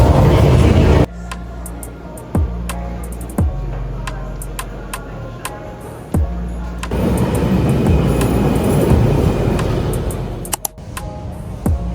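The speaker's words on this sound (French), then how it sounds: "on va essayer de prendre juste un tram pour voir un peu à quoi ça ressemble" Tram riding through Brussels streets, a steady low rumble of wheels and motor with sharp clicks and rattles over the track, loudening as it moves off midway; no talk.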